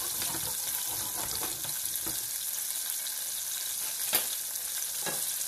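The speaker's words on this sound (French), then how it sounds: "Et là, on va laisser tranquillement pendant quelques secondes. Ça va caraméliser les gésiers." Chicken gizzards sizzle and caramelise in a hot pan, a steady frying hiss with occasional stirring scrapes and small pops, close up and without talk.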